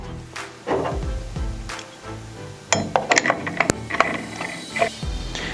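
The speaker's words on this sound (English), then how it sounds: "Grab the blade and tighten the tool-free arbor screw, then flip the tab down." Tool-free arbor screw being tightened on an AGP CG-150 wall chaser, a close series of ratcheting clicks and metallic clinks in irregular bursts, with no talk.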